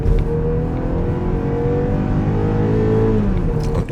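A BMW X4 with the 20i engine revs hard in sport mode, a loud, steady engine roar holding high for several seconds with a slight dip and rise toward the end, heard close with no talk.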